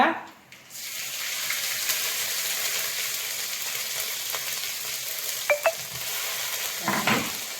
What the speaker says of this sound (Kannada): ಚಂದ ಮಾಡಿ ಫ್ರೈ ಮಾಡಬೇಕು ಹಸಿವಾಸನೆ ಹೋಗುವ ತನಕ ಫ್ರೈ ಮಾಡಬೇಕು